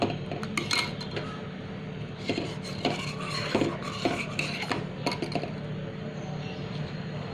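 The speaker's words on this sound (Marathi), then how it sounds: "आता आपली ही खीर, दूध हे आपण सतत हलवत राहायचं आहे" A metal spoon scrapes and clinks against a pot of milk for makhana kheer in an irregular stirring rhythm, with light clatter of cookware and no voices.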